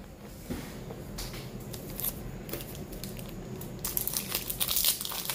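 Crinkling and tearing of a foil Pokemon card booster pack wrapper as it is opened by hand, close and moderately loud, with rustling bursts building toward the end and no talking.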